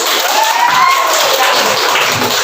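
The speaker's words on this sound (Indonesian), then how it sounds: "Tepuk tangan untuk kelompok 1." A classroom applauds a student group, group 1, after its presentation: dense, steady clapping that fills the room at close range for the whole stretch, with no clear speech on top.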